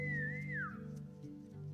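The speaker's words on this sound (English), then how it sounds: "Who just whistled at me?" A single whistle from a character in a video game, a clear close tone that holds and then glides downward, standing alone over a low steady game hum.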